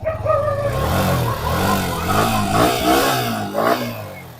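A Yamaha R15 V3 motorcycle engine revs up close and loud, its pitch rising and falling in several swells over a few seconds, with no one speaking.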